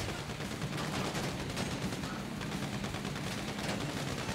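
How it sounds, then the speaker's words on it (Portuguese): Dense, continuous gunfire from a GTA V Online mission, a steady rattle of shots layered over a loud, busy game soundscape with low rumbling underneath, no talking. "A hora que passa um carro aqui, eu tomo tiro."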